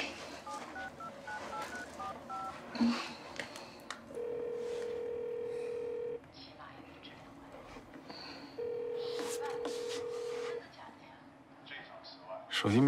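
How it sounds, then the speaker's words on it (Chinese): A phone number is keyed in during an indoor domestic TV-drama scene: a short run of quick dialing beeps, then two long, steady ringback tones a few seconds apart, with people talking underneath. "你要不赶紧给你爸打个电话"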